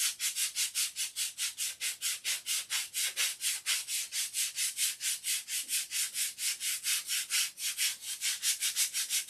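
Sandpaper rubs by hand in a fast, even back-and-forth rhythm, dozens of close, dry rasping strokes repeating steadily without pause and with no voices.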